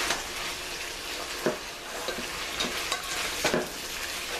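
A spoon stirs garlic into browned meat sizzling in a pan for spaghetti sauce. A steady frying hiss runs under it, with a few scraping stir strokes, close up and without talk.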